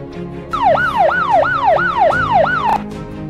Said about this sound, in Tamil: செகண்டு நம்ம பார்க்க போகிற சைரன் சவுண்டு